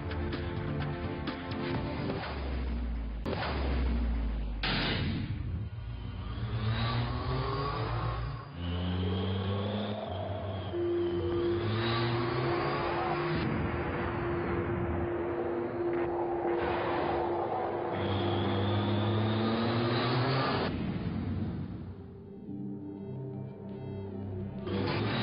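Triumph Speed Triple motorcycle engine revving, its pitch climbing and dropping repeatedly through sustained, loud running, then steadying into a held drone before easing off near the end.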